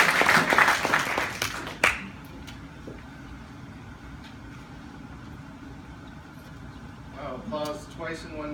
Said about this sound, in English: Applause twice in one night.